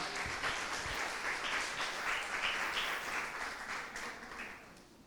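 Church congregation applauds during a sermon, a soft, distant wash of clapping that swells and then tapers off over a few seconds.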